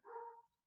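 A pet dog gives a single short, loud bark close by, fading quickly into quiet.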